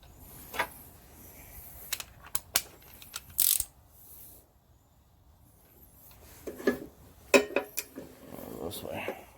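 A ratchet tightens a spindle nut on a Husqvarna mower deck in a few short bursts of clicking, mixed with metallic clinks and handling noise, with quiet gaps in between and low talk near the end.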